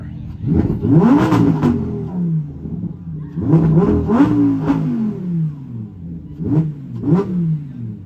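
A Lamborghini Huracan V10 engine gives several loud revs that surge and fall in bursts, each climbing sharply then dropping back, with brief pauses between them; no talking.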